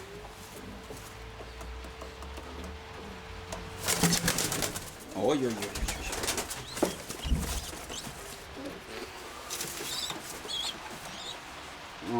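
Pigeons in a loft making soft cooing calls, then bursts of wing flapping and scuffling, with someone talking close by.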